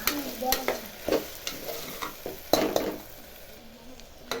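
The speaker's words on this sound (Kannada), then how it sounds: "ಮಿಕ್ಸ್ ಚೆನ್ನಾಗಿ ಮಿಕ್ಸ್ ಮಾಡ್ಕೊಳ್ಳಿ ಸ್ವಲ್ಪ ಮಂದ ಉರಿಯಲ್ಲಿ ತರಕಾರಿಗಳನ್ನು ಬೇಯಿಸ್ಕೊಳ್ಳಿ" Vegetables for a vegetable pulao fry on a low flame in a pan, with a soft, continuous sizzle broken by repeated scraping stirs and light clinks of a spoon against the pan.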